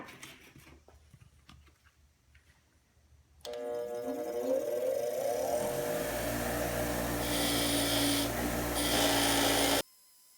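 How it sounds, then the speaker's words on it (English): A powered wire brush wheel spins up with a rising whine after a quiet start, then scrubs old scale and grease off metal posts from an Atlas 73 drill press in a steady, loud, gritty rasp before stopping abruptly. "try to clean these posts up a bit using my wire brush here, brush wheel"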